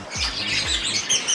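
A green Fischer's lovebird lets out a run of sharp, raspy squawks and chirps, close and fairly loud, with a few quick calls repeated in succession.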